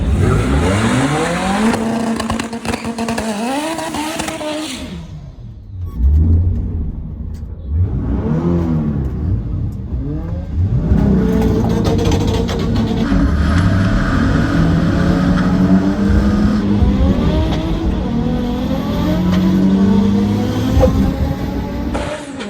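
A 1995 Nissan 300ZX and a Hemi-swapped 1970 Challenger V8 accelerating hard on a drag strip, loud rising revs through several gear changes, a brief lull, then another run roaring up and pulling away, no voices.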